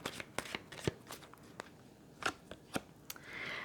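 Tarot cards shuffled and drawn from the deck, giving a string of short, crisp riffling snaps and slides at close range, with a longer soft rustle at the end.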